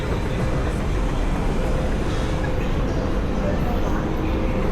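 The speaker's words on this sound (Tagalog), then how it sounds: "Kakarating lang ng tren." A train pulling into a station in Taiwan, a loud continuous rumble and roar of rail cars filling the platform from start to finish.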